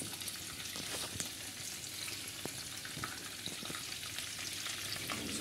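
Minced meat patties fry in a pan, a steady close hiss and crackle of sizzling fat with occasional soft pops, continuous and alone.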